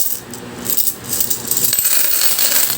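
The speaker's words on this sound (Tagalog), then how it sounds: "tignan natin kung gaano ba kadami yung barya dito" A large heap of coins being sorted through during coin hunting clinks and rattles continuously up close, with bright metallic jingling that grows busier toward the end and no talking.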